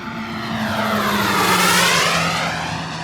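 A 2.1-meter radio-controlled F-86 jet model flies past overhead, its steady whine swelling and then fading with a sweeping pitch shift as it passes through a maneuver, with no talk over it.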